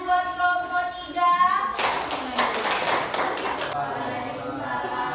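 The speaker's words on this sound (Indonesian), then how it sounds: "Tepuk tangan buat kelompok 3." Classroom applause for a student group, a burst of close, uneven hand clapping that follows speech and fades as talk resumes.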